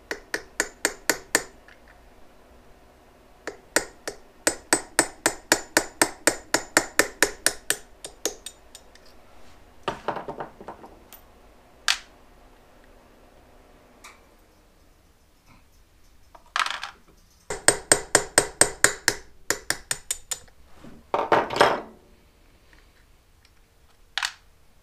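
Rapid bursts of light metallic tapping from a small hammer striking a Suzuki GS550 motorcycle carburetor, in quick rhythmic runs separated by pauses, close and fairly sharp.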